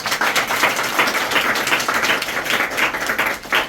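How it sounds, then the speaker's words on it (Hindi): A group claps for a team at an award ceremony handing out cash rewards and certificates, lively uneven hand clapping from a modest crowd at close range. "एक बार सिल्वर टीम के लिए भी तालियां बजाएंगे।"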